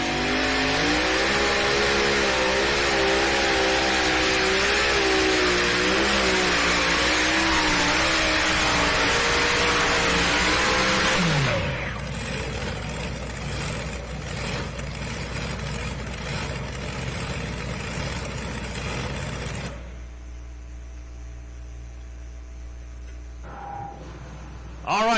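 A National Tractor Pulling Championships pulling tractor, American Thunder, roars loudly at full throttle for about eleven seconds, then drops to a lower, rough idle rumble that fades near the end as the engine is shut off.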